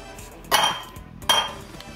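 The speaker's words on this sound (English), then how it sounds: "Crack my 3 eggs." Eggs cracked against a bowl rim while making lemon cake batter, two sharp clinking cracks about a second apart, close and fairly loud, with quiet kitchen noise between and no talk.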